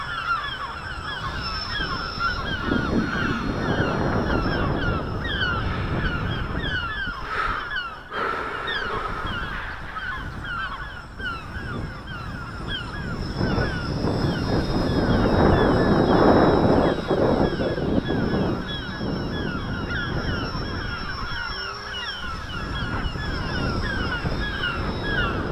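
Strong gusty wind buffets the microphone throughout a long stretch while an RC plane with a 3530 1000kv motor and 11x4 prop on 3s flies, a continuous loud rushing roar with a faint motor whine above it.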